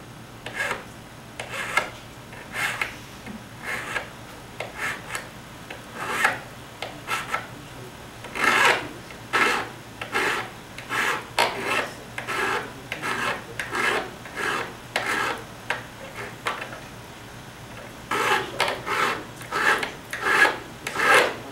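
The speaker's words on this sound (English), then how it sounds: "to smoothen this ragged edge, we're going to use the single cut file" A single cut hand file rasps across a ragged metal edge in steady, close push strokes with short pauses between them, alone without any talk.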